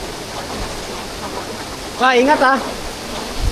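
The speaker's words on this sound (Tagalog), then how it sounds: "Yung lakas ng tubig, men." A strong waterfall at an eco-tourism area in Maria Aurora, Aurora roars as a steady broadband rush throughout, with a brief spoken phrase cutting in near the middle.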